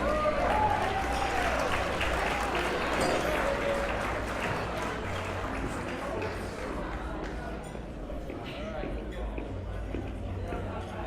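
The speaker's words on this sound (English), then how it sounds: "How about a round of applause for your best man?" Wedding reception guests applaud the best man as he comes up to give a toast, steady clapping that fades a little while chatter and voices carry beneath it.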